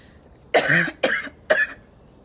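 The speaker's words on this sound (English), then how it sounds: "I know you almost have to tell people why you coughing." Three harsh coughs in quick succession, close and fairly loud, each a short burst separated by brief pauses.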